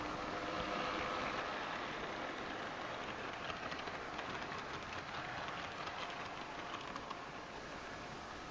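Class 25 diesel locomotive D5182 runs past with a long train at an autumn heritage diesel gala, a steady rolling rumble and faint rhythmic wheel clatter heard from some distance.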